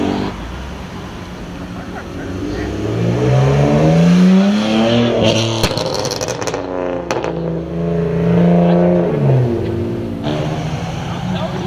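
Cars revving and accelerating away from a car meet, engines rising and falling in pitch as they pass nearby and loud, with shifting whines and a crowd of voices talking over them.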